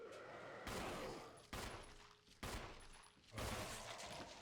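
Handgun fire in a Resident Evil game on Chris's playthrough during a boss fight: four sharp shots spaced about a second apart, each with a booming tail over a low, rumbling game background.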